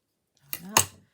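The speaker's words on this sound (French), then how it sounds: "Voilà, là, je coupe." Scissors snip once through paper for a stamp craft, giving a short close double-stage cut of sliding blades and a sharp closing snap in a quiet room.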